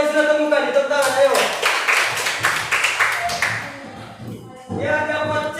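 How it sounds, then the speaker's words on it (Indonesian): Students in a classroom clap their hands together in a short burst of rhythmic, close-up clapping between stretches of a teacher talking. "tepuk tangan, ayo."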